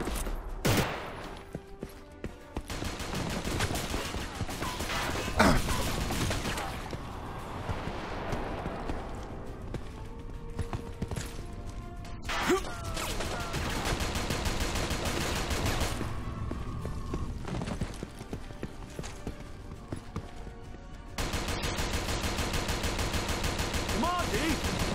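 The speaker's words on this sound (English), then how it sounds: "Use the rocket launcher!" Rocket launcher blasts and gunfire in the video game Inversion during a high-gravity chapter: sustained bursts of rapid shots and heavy explosive impacts, loud and dense, with combat shouting mixed under the firing.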